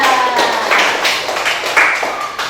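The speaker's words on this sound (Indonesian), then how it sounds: "tepuk tangan untuk Yunda" Classroom applause for a student after a presentation at an elementary school, a brisk burst of many small hands clapping, loud and close, with children's voices faintly mixed in.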